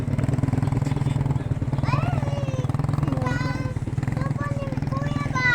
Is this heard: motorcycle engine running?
yes